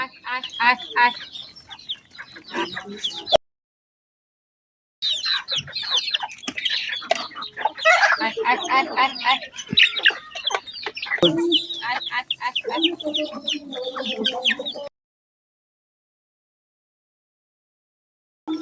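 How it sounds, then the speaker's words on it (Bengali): Chickens cluck busily at a backyard poultry farm during evening feeding, close and lively in bursts, with a rooster among them and a person talking over the birds; the sound drops out for short gaps. "বিকালে চলে আসছি আমার মুরগির খামারে"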